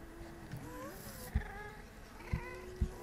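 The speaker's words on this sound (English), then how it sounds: "Where are you, evil kitty cats?" Meows from cats in a video game, several wavering calls spread across a few seconds, mixed with soft low thuds and game background sounds, no talking.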